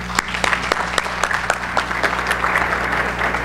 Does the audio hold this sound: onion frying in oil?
no